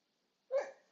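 A single short dog bark or yelp, close and fairly quiet, rising sharply and trailing off in about half a second after silence.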